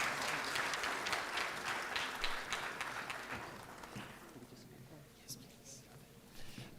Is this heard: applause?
yes